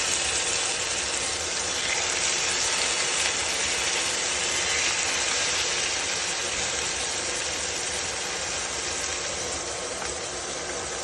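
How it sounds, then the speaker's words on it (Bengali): Hilsa fish pieces hit a hot pan and fry, a dense, steady, close-up sizzle that holds at an even loudness throughout with no voices. "এখন আমি মাছগুলো দিয়ে দিচ্ছি।"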